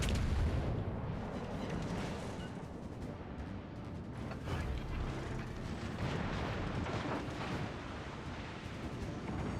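Naval ship guns fire a broadside in the WoWL sea-battle game, a sustained barrage of heavy, overlapping booms and rumbling that continues loudly for nearly ten seconds.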